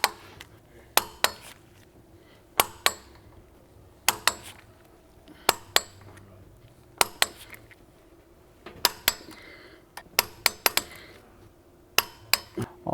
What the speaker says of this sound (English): We have our M12 torque wrench set to 90 Newton meters.